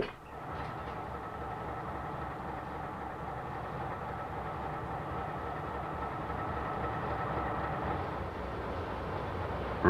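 Train 406 for Halifax rolling along the track, a steady low rumble and rattle of rail cars and heavy engine, continuous and fairly faint, holding even throughout.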